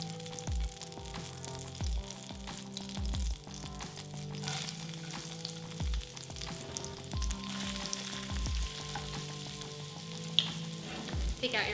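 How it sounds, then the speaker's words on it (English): Shallots sizzle in a hot pan while reverse-searing tri tip, a continuous, moderately quiet frying hiss broken by periodic scraping and clinking bumps from a bench scraper and utensils. "put in your shallots."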